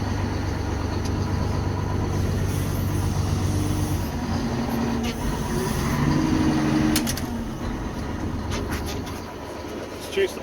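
A Komatsu WA500 wheel loader drives in second gear, its engine a steady loud low rumble throughout with clanks and rattles, rising slightly near the middle.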